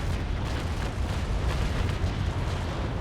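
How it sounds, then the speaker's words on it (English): Cannon broadside from a naval warship in the age-of-sail game Naval Action, a dense continuous roar of overlapping booms rumbling loudly throughout with no pauses. "preparing to shoot him, and fire"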